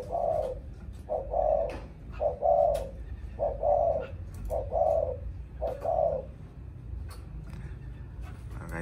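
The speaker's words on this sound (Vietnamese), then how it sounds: "Mày gáy gù cả ngày, ốp ốp là gù." A Thai spotted dove (hoa mơ) coos in a steady repeating rhythm, six close, clear phrases of soft low hooting over a faint background hum, with no talking.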